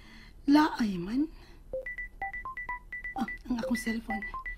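A cellphone sounds a short repeating electronic tone pattern, a series of quick beeps in pairs, heard moderately close while a person speaks over and around it.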